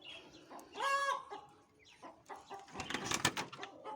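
A hen clucks close by in a bird-breeding coop, with a sharp squawking cluck early on and then a rapid burst of excited clucks near the end, separated by quiet pauses.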